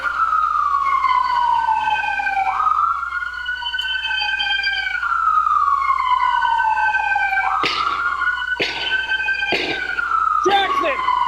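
Wailing police sirens sweep up and down continuously, loud and close, overlapping each other, with a few sharp bangs or knocks near the end.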